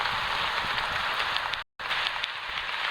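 Steady rain falls at night or morning near a church, a continuous close hiss of drops with one brief cut to silence partway through.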